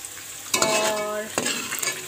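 Fried onions being stirred in a hot pan and lifted out, with a steady oily sizzle and two sharp scraping clacks of a spoon against the pan.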